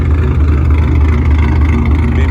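A cammed 4.6-litre Ford Mustang GT with full bolt-ons, long-tube headers, a catless X-pipe and a muffler delete idles loud and close. Its steady, lopey rumble is heavy in the low end and runs alone without speech.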